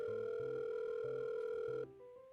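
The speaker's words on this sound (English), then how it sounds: "my social anxiety when I heard the phone ringing" A telephone ring tone in a video game, a steady electronic tone with a pulsing lower pattern, clear and fairly quiet, cutting off abruptly near the end.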